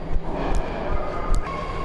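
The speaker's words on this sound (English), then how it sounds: "I think I want to be on that train." A BART train pulls into the station with a steady rolling rumble and wheel noise, broken by a couple of short high squeals and clanks, heard from the platform at moderate volume.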